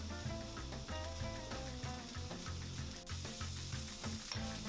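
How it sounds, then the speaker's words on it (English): Chorizo sausage fries in heated oil in a pan for seafood paella, producing a constant, fairly loud sizzle and crackle with no voices. "now that my oil is heated up, I'm going to add my chorizo sausage"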